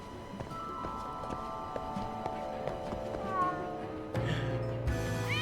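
A cat meows inside the video game Lost Judgment, its voice rising over steady game background music and ambient sound. Near the end, heavier thumps or footsteps join in.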